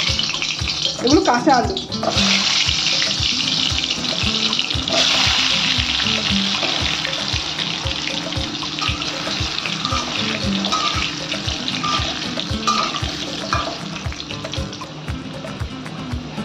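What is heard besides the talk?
turmeric-coated raw potatoes frying in onion-frying oil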